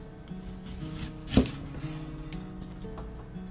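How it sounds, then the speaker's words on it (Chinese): A knife chops once through an onion on a cutting board, a single sharp thud near the middle standing out against a quiet room hum, with no talking. "然后呢我们再用刀把它的头部给它切掉"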